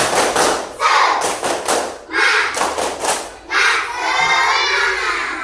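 Children in a group chant the 'tepuk semangat' cheer in unison, punctuating it with sharp bursts of clapping in a quick, rhythmic pattern, loud and close.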